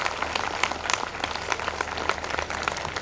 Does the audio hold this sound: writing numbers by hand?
no